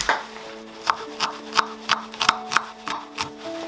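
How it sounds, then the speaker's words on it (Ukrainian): A knife chops steadily on a board, dicing an onion, about a dozen sharp, evenly spaced cuts close by. "Беремо цибулю і нарізаємо її кубиками."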